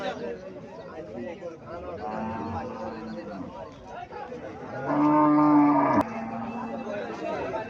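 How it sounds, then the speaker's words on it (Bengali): A red Sahiwal cow lets out a long, loud moo close by at a cattle market, over background chatter and farmyard noise, with people talking. "এখানে একটা গাভী দেখা যাইতেছে, লাল রঙের গাভী, শাহিওয়াল জাতের গাভী"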